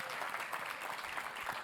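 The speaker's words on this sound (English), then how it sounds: "So can we just give her another round of applause?" A round of applause from the audience at a PWHL Vancouver press conference, a faint, distant, even wash of many hands clapping with no distinct peaks.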